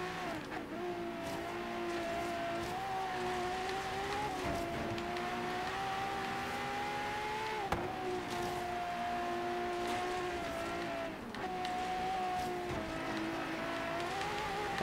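A race car in Forza Horizon 3 drives a rainy race, its engine a steady, droning roar that climbs in pitch through each gear and drops briefly at every shift, heard continuously with no talk.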